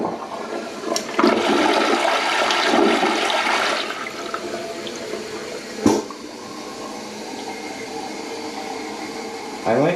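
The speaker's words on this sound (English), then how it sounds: "Let's see how it flushes with the handle held down." A Kohler Kingston toilet flushes with the handle held down, giving a loud, long rushing swirl of water that tapers into a quieter refill hiss, with a couple of sharp clunks near the end.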